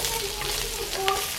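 Pork galbi (dwaeji galbi) sizzles and fries steadily in a pan being flipped back and forth, a continuous close hiss with faint voices in the background.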